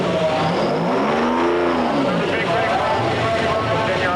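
A yellow Peterbilt pulling truck revs its engine on a pulling track at a truck and tractor pull, a loud steady roar rising and falling in pitch, with an announcer talking over it.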